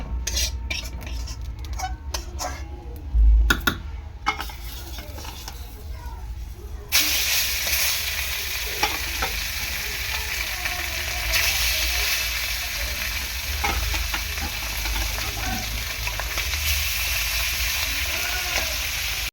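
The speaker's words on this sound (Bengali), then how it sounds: "সেই কটা একটু ভেজে নেবো, নিলে মাছ ভাজা কমপ্লিট হয়ে যাবে" Small fish frying in hot oil in a home kitchen, a steady loud hiss that swells after a few seconds of clattering utensils and pan knocks, continuing without pause.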